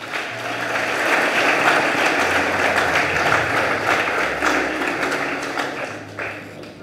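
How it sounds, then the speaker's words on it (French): A church congregation breaks into sustained applause during a Marian feast-day service for the Assumption, a dense, steady wash of clapping that holds at a fairly even level throughout, with no talking over it. "Acclamons la Vierge Marie."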